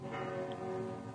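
Several church bells practice-ringing together in a town, heard as a dense, sustained metallic tone with layered overtones in a radio drama scene, faint and continuous with no speech.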